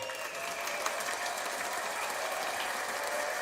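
A canned applause effect played on a live cruise and food chat stream, steady massed clapping that holds evenly throughout at moderate level with no voices over it.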